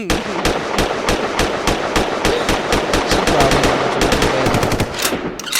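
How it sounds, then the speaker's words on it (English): Rapid automatic gunfire sound effect, a dense string of loud sharp bursts in fast steady rhythm, continuous and close throughout with no talking. "I don't know if gunshots is appropriate, but we're gonna let it off, man."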